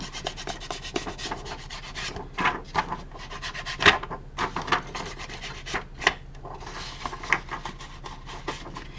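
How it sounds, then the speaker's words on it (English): Inking the paper edges of a handmade folio journal: repeated close rubbing and scraping strokes of an applicator across paper, irregular swipes with a few sharper scuffs, alone without talk. "I am going to ink these edges"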